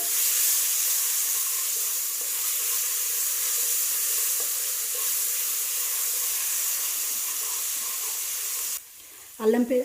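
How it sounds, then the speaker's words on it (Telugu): Ginger garlic paste frying with cumin in a pan, a steady close sizzle and hiss running for about nine seconds before it drops away, with a brief voice at the end. "ఇప్పుడు మనం అల్లం వెల్లుల్లి పేస్ట్ వేసేసుకుందాము. ఇది కొంచెం పచ్చి స్మెల్ పోయేంత వరకు వేయించుకోవాలండి అల్లం వెల్లుల్లి."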